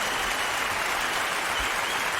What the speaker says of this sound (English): Hand claps are going.